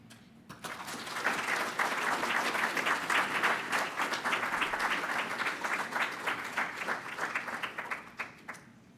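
An audience at a legal services forum applauds an eviction diversion panel, a full, steady round of clapping that swells quickly and fades near the end, with no talking over it.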